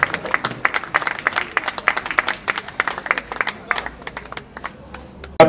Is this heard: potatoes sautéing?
no